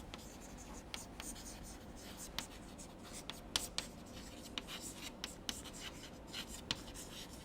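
Chalk or marker writing on a board during a lecture on ideal mixtures of gases, heard as a run of quiet, close scratchy strokes and taps in an uneven rhythm, with faint room noise beneath.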